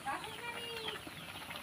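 Village chickens clucking near an outdoor clay-stove cooking spot, a cluster of close, busy clucks and short calls running continuously over a soft background hiss.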